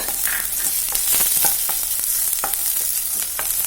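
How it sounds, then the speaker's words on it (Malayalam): Chopped ginger and green chillies sauté with garlic in a hot pan, giving a continuous close sizzle with scattered crackles and scraping stir sounds, and no one speaking. "ഇനി നമ്മൾ ഒരു ചെറിയ പീസ് ഇഞ്ചിയും അതുപോലെ 2 ചെറിയ പച്ചമുളകും കൂടെ അരിഞ്ഞതാണ്, അതൊന്ന് സോട്ട് ചെയ്തെടുക്കുവാണ്"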